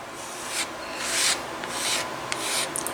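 A card rubbed over a smooth dyed leather surface makes soft, dry swishing strokes, about four short rubs in a row, quiet and close.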